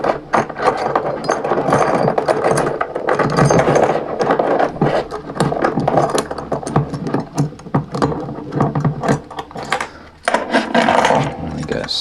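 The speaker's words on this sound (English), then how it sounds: "I'm going to need to remove all the keys from this ring" Keys being worked off the ring of a six-key puzzle lock, a busy run of close metallic scraping, clicking and rattling that continues almost without pause.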